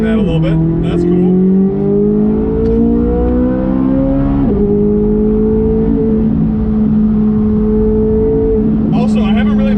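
Chevrolet Corvette C8 Z06, mid-engine, driving on a track: a loud, sustained exhaust note climbs in pitch through the gears with short drops at shifts. It sits close and continuous throughout.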